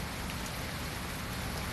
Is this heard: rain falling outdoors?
yes